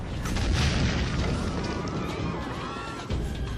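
Deep, heavy booming rumble of bombardment from dozens of cannons firing on the walls of Constantinople, sustained and loud with rolling low-end thunder and a jolt near the end.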